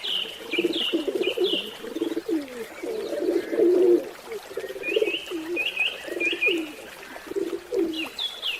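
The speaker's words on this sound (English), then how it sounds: "Dove." A dove coos in soft, low repeated phrases, close and clear, with higher chirps from other birds between the calls.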